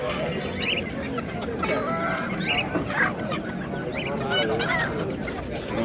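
Chickens cluck and call amid a busy, noisy setting, with people talking in the background throughout.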